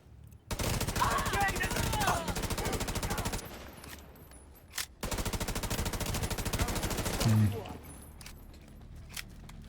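Tommy gun firing in a video game, two long bursts of rapid automatic fire separated by a short pause, loud and close, with a voice talking over the shooting.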